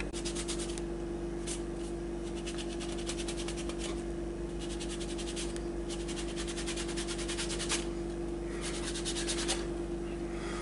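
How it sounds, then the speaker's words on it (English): A dry rag scrubs over a painted plastic hockey mask in quick repeated rubbing bursts, close and soft, over a constant background hiss and hum. "Now I'm just taking the dry part of the rag and just scrubbing it in a few places"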